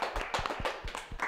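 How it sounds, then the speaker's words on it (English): A small live show audience gives a brief round of clapping, a few distinct close hand claps in an uneven rhythm lasting just over a second. "let's give her a round of applause"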